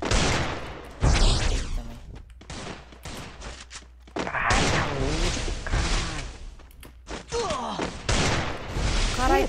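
Rapid bursts of Free Fire video-game gunfire crackle and thump in clusters, mixed with loud talking over the top.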